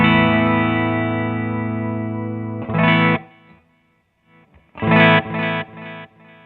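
Electric guitar through a Revpad wireless multi-effects controller sweeping distortion gain and delay mix: a sustained distorted chord fades out, then choppy strummed bursts return with echoing repeats, close and alone.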